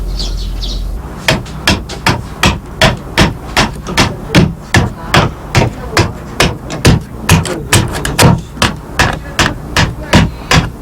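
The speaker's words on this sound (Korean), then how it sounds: "고자 부분을 모탕에 올려놓고 자귀로 측면부터 고르게 다듬어 나간다" An adze strikes the side of a traditional Korean bow's end piece resting on a wooden chopping block, about twenty sharp, evenly paced chops in a steady rhythm, close and loud, with faint bird chirps at the start.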